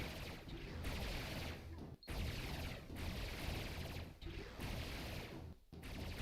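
Units in Supreme Commander (LOUD Project) keep up dense, continuous mechanical gunfire, a loud rattling wash broken by a few brief dips.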